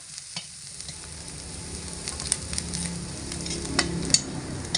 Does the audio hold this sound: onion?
yes